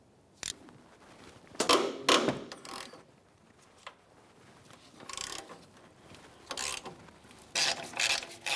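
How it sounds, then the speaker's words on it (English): A hand ratchet with a 14 mm socket removes the strut mounting nuts on a 2004-2015 Nissan Titan front shock and spring assembly, giving several short bursts of rapid clicking separated by quiet pauses, close and alone. "let's continue on with our 14 millimeter socket and remove each of our three mounting nuts"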